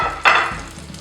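Dim sims deep frying in hot oil give a continuous sizzling hiss with a sharp surge partway through, close and fairly loud.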